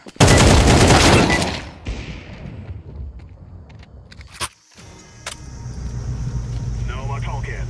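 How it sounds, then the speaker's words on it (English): A Counter-Strike 2 flashbang grenade goes off on the Ancient map with a loud, sharp blast that rings on for over a second and then fades. Quieter clicks and clatter follow. "Throwing a flashbang."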